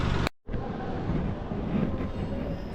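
A train at Jakarta rolls steadily with a dense rumbling roar after a brief cut, the continuous rail noise holding at a fairly loud, even level.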